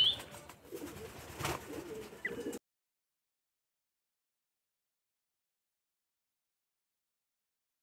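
Racing pigeons coo in a loft, with a couple of seconds of low, murmuring calls amid faint background noise before it falls silent.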